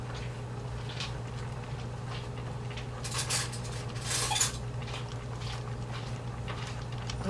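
A small spoon clinks against a pot of steamed cabbage broth, sounding as a few faint metallic taps and scrapes over a steady kitchen hum.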